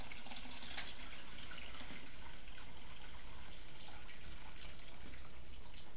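Cheese curds and whey for farmer's cheese pouring through a colander into a sink, a steady wet rush of draining liquid throughout.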